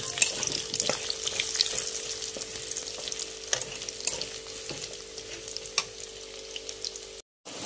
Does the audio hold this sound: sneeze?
no